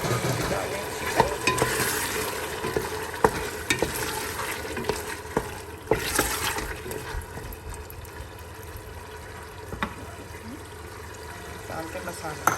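Chicken goes into a pan of fried masala for a home-style chicken curry and fries with a constant sizzle, punctuated by sharp clacks of a spoon stirring against the pot, close by.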